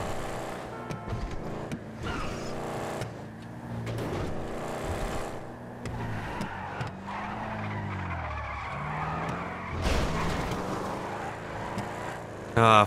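A car drifts in a police-and-criminal driving video game, its tires skidding and squealing in long sweeping arcs over a steady engine drone, with a sharp louder burst near the end.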